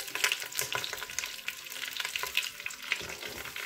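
Onions fry alongside turkey wings in a Cookeo multicooker, giving a soft, fairly quiet crackling sizzle with light scattered pops and small stirring sounds.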